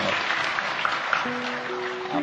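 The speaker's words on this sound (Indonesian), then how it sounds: "Oh, tepuk tangan." A short burst of audience applause rises at a religious lecture gathering, brisk clapping from a crowd that carries on for a couple of seconds.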